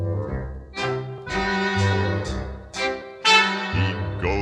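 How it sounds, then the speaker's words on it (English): On a vintage Disney vinyl children's record, the ugly duckling honks. A series of bright, horn-like toots arrive in a bouncing rhythm, one after another, played alone and up close. "That's the sound of the ugly duckling."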